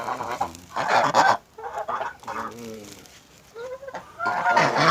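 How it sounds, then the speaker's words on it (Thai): Geese kept on a rural Thai farm honk loudly and repeatedly up close, harsh overlapping calls coming in bursts with brief pauses between them. "อันนี้แกเลี้ยงห่านของเรานะครับ"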